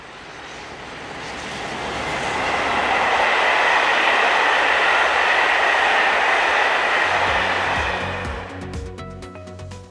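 A train from Brive in France, hauled by locomotives 26008 and 156, roars past loudly, swelling from a distance to a sustained rush and then fading into trailing wheel clatter.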